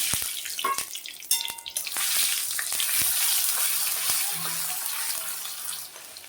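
Ground prawn paste hits hot oil seasoned with black cumin in a pan, starting with sharp clatters and spoon taps, then settling into a loud, continuous close sizzle with occasional scraping.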